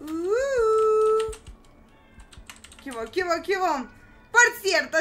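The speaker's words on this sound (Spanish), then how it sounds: "si escuchan un gato chillón de fondo" A screeching cat yowls in the background with a drawn-out, rising meow, accompanied by steady computer keyboard typing during a Roblox game session; a voice talks over the latter part.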